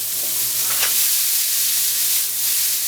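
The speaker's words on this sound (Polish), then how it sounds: "wrzucamy nasze warzywa, tak? Przypominam, seler naciowy, marchewka i cebula oczywiście." Celery, carrot and onion frying in a pan with leftover fat from cooking osso buco veal, a loud continuous sizzle with brief stirring swishes.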